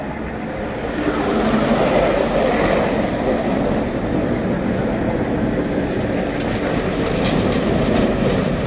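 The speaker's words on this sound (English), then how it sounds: "Here comes the plows." Snowplow trucks roll past on a snowy hill road, their broad steady rumble and hiss of scraping building in the first second and holding loud and close, with no voices.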